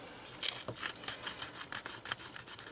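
Sandpaper rubbing around the edge of a mica bracelet, a series of soft, close scratchy strokes in an uneven back-and-forth rhythm, quiet with no talk.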